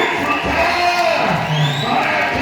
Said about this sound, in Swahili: Mpe Yesu makofi na kelele